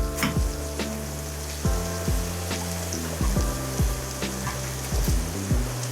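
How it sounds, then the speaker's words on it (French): Leeks frying in a pan with onions, garlic and spices, a steady close sizzle broken by repeated clanks and scrapes of stirring. "vos poireaux, vous les mettez dans la casserole avec les oignons et l'ail et les épices"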